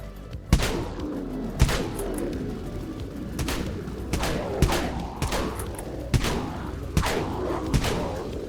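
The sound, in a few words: Dual Broncos shotgun firing in the video game Dead Frontier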